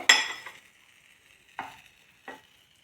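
Motichoor boondi batter drips into hot oil and sizzles in three separate bursts, each a sharp crackling hiss that dies away quickly into near silence between them.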